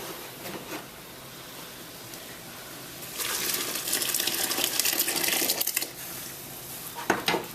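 Water drains out of a pot of cooked pasta, a rushing, splashing pour lasting several seconds between quieter stretches with a few kitchen clinks.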